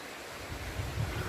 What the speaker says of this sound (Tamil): சின்ன ஓடை போகுது, சத்தம் கேட்குது,